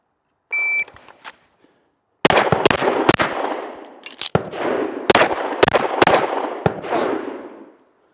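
A burst of rapid pistol gunshots during a cold start shooting drill at an outdoor range, a start beep followed by a quick string of loud cracks, a short pause for a reload, then more shots.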